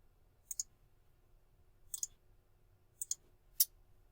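A computer mouse clicks while a part is sketched in Autodesk Inventor 2016, with four quiet, crisp clicks, several of them quick doubles, spaced over a few seconds against a near-silent background.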